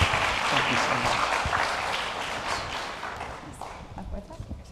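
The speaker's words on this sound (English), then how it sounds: "A round of applause for our guests." Applause from an audience at an opening ceremony for Houston Energy and Climate Week, steady clapping that fades gradually, with some voices mixed in.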